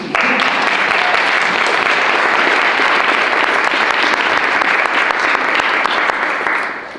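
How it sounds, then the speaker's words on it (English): Audience applause at a summer reading bill signing, loud sustained clapping from a large crowd that carries on evenly for several seconds before starting to fade at the end. "We need to clap for that."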